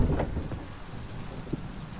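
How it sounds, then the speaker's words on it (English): Steady rain pours down in the video game Sancticide as a constant wash of noise, with a low rumble of thunder at the start fading out. "It's always raining down here."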